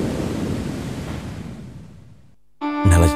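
A surging ocean wave sound effect in a radio station jingle, a broad rushing wash that fades away before a bright musical sting cuts in at the end.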